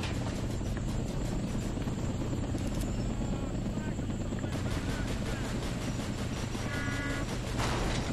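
Aircraft in the video game Toy Soldiers: War Chest drone with a loud, dense rotor-like roar that fills the whole stretch, steady and unbroken amid layered battle noise.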